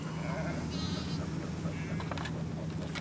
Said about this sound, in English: Rounding up the sheep and getting them back into the pen and getting the fence back up.